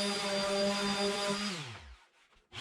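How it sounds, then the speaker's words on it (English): A random orbital sander runs on wood while an epoxy countertop is being built, a steady close motor whine that winds down and stops near the end. "So first thing, I've got my random orbital sander."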